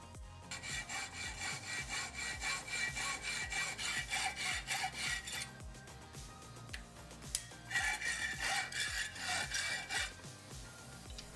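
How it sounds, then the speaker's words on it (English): A hacksaw cuts the ends off a cast metal spinning top with steady, close back-and-forth rasping strokes that continue without a break and lighten briefly partway through. "I just cut them off with a hacksaw."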